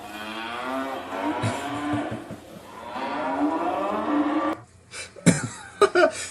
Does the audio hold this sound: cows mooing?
yes